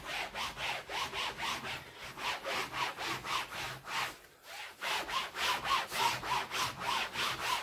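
A diamond painting is rubbed clean of hairs in quick, even back-and-forth strokes, soft and close, with a brief pause midway before the rhythmic scrubbing resumes.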